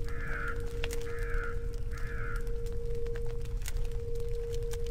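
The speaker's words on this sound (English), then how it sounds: "They say there's a crow for every soul in this yard." Crows caw three times in quick succession in a graveyard within a ghost-hunting adventure game, harsh and mid-distance over a steady low ambient hum and drone.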